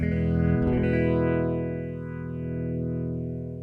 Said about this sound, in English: So both of those combine in a Leslie rotating speaker.